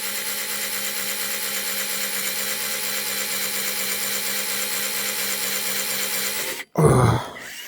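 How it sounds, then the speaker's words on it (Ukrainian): A cordless drill-driver boring into a steel rail, a steady high whining grind that runs for several seconds, then stops abruptly, followed by a short heavy clunk. "Отвертка то тягне, але тут сталь, мабуть, така, що не дуже вона піддається свердлінню."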